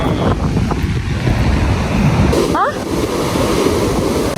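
Surf at a beach during a rough-sea warning sends out a steady broadband roar, with wind buffeting the microphone throughout and a brief high chirp cutting in midway.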